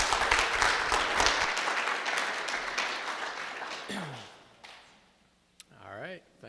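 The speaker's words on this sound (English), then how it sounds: "Let's give them a round of applause." An audience at a security conference talk claps in a dense burst that fades out over a few seconds. A voice then starts speaking near the microphone.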